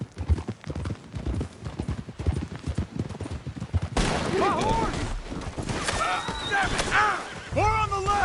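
Gunfire and shouting during a firefight in Red Dead Redemption 2, with galloping horses early on, then sharp shots and yelling voices over loud, continuous battle noise.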